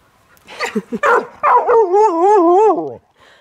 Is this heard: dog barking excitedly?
yes